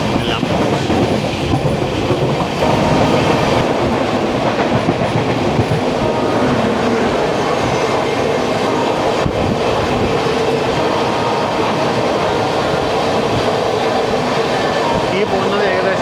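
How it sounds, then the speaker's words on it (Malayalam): The Raptisagar Express, a Gorakhpur–Thiruvananthapuram North train, rumbles past loudly and close, with continuous clickety-clack of wheels over rail joints and a steady heavy roar, while someone talks over it. "ഈ പോകുന്നത് ഏകദേശം അത്യാവശ്യം നല്ലോണം ലേറ്റായിട്ട് പോകുന്നത് റപ്തിസാഗർ എക്സ്പ്രസ് ആണ്."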